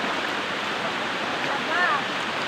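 Creek water flowing steadily in a rural outdoor spot, a continuous close rushing wash with no break, plus a faint brief chirp near the end.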